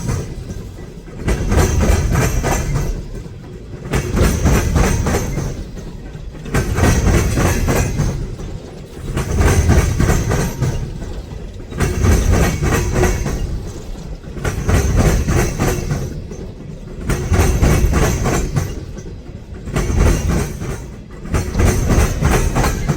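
A long freight train rolls past close by in Birmingham, its wheels clicking over rail joints in a steady repeating rhythm as loud rumbling cars keep passing, with no voices.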